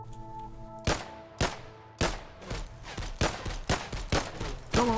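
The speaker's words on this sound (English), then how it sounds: "The most sudden outburst of gunfire I've ever seen." Sudden bursts of video game gunfire, a rapid series of loud sharp shots spaced unevenly over a few seconds, some in quick clusters, with faint tonal game music underneath at first.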